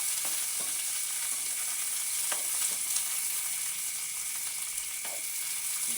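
String beans frying with onion and garlic in hot oil, a steady, fairly soft sizzle with a few light stirring scrapes and no talking.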